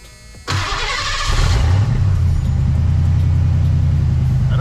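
A Ford Fox Body car's engine cranks briefly, then catches and settles into a loud, steady idle with a deep rumble, close by and with no talk.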